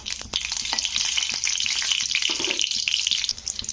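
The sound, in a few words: frying dried red chillies in oil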